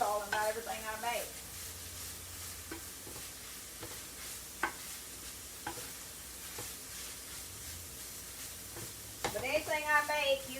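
Ground pork and cabbage fry in a skillet with a steady soft sizzle, broken by occasional clinks and scrapes of stirring, with brief bursts of nearby talk at the start and end.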